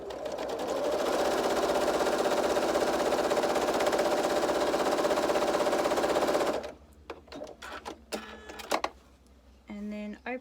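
A sewing machine runs at steady speed for several seconds while stitching a quarter-inch quilt seam, humming loudly and close, then stops, followed by fabric handling and light clicks.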